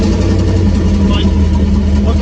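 A rat rod's 5.3 V8 with a cam and decapped injectors idles steadily to warm up in a parking lot, a loud, continuous low rumble with a lumpy rhythm, heard close throughout with no talk.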